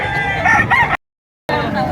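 A rooster at a fighting-cock market crows loudly and close, cut off by a brief gap of silence before more crowing resumes.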